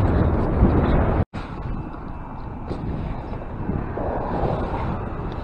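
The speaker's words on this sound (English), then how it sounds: "trolling motor making noise." A boat's low, steady trolling motor hum runs beneath rough wind buffeting and water noise during a cold front, briefly cutting out before resuming.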